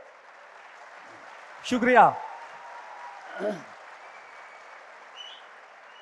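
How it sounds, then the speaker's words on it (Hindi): An audience claps at a mushaira, an Urdu poetry gathering at Jashn-e-Rekhta, a thin, steady wash of applause underneath a man's brief spoken words. "तालियां कमज़ोर हैं"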